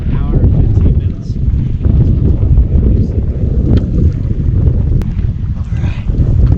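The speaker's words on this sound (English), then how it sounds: "it is blowing cold, but we're surviving here. We're doing good. So the wind's just howling." Strong cold wind sweeps across Lake Guntersville around a bass-fishing boat in winter to early spring conditions, a loud, continuous buffeting roar that hammers the microphone throughout without letting up.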